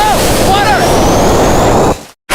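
Water gushes from a newly built well in a small Kenyan village, a loud, steady rushing spray with wind buffeting, excited voices rising over it, before the sound cuts off abruptly near the end.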